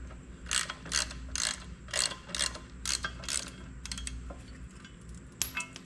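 Ratchet wrench turning a 3/4 nut off the hood of a David Brown 880 tractor, about eight rhythmic bursts of close clicking followed by a few softer clicks and a metallic clink, no voices.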